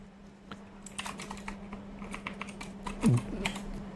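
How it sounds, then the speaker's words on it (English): Quick, light keystrokes tap on a computer keyboard in bursts, close and fairly quiet over a low steady hum, with one brief louder thump near the end. "why am I typing?"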